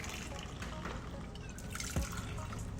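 Two ounces of vodka poured into a mixing glass for a Dirty Martini, a steady close liquid pour running the whole time with a small clink near the end and no talking.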